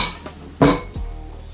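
A utensil knocks and clinks against a bowl while ingredients are mixed, with one loud central clink between a few fainter taps.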